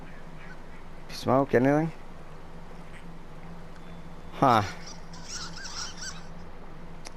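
Ducks quack in the video game Firewatch, two quick bursts of nasal, honking calls followed by a single call a few seconds later, mid-distance over a quiet ambient bed while someone speaks briefly.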